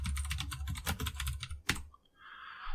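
Rapid, steady typing on a computer keyboard, close and fairly loud with dense clustered keystrokes, a single sharp key press near the end, then a brief pause before a soft hiss.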